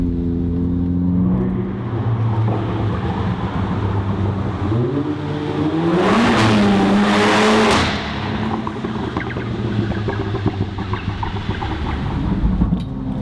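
A sports car's exhaust rumbles at idle, then revs hard twice in a loud, rising roar before settling back to a deep burbling idle.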